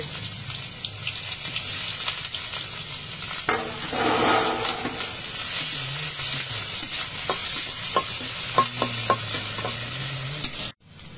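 Onions sizzle steadily in hot oil in a wok, a continuous loud frying hiss with scraping stirs and a few clinks, running without speech until it cuts off abruptly near the end.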